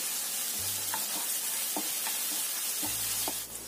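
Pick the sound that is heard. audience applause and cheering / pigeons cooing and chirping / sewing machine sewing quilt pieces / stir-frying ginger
stir-frying ginger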